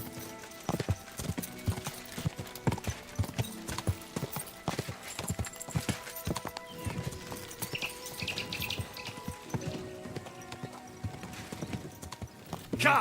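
A horse's hooves clip-clop in a steady, brisk rhythm on a morning ride in Kingdom Come: Deliverance II, loud and close, with light birdsong and a brief whinny in the background.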